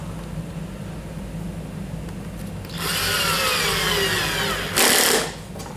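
A cordless battery drill drives screws into a wooden toboggan, first a low hum, then a high whining run of a couple of seconds, ending in a brief harsher burst as the screw seats, up close with no talking.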